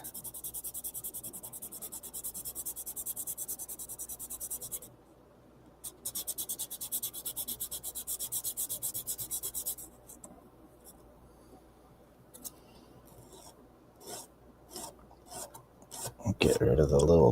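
A fret leveling beam scuffs the back of a Cardassian Galor class starship model, making close, fast, rhythmic rasping strokes that pause briefly, resume, then give way to sparse scrapes and handling noises.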